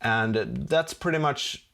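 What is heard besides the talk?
No distinct noise like a dog, phone or traffic.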